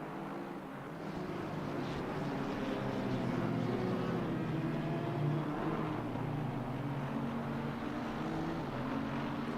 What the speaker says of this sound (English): that V10 engine just sounds absolutely incredible